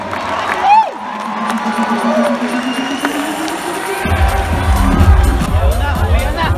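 The crowd at a boxing event in Singapore roars and cheers, with whoops and shouts rising over a loud arena hubbub and heavy low rumble in the second half, while an announcer's amplified voice sounds over it.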